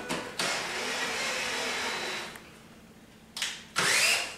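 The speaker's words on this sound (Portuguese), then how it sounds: "Eu vou apertar a haste, pessoal, com a máquina." A power drill tightening a metal support rod for an invisible shelf bracket kit, a steady whirring run of about two seconds followed by two short bursts, close and fairly loud.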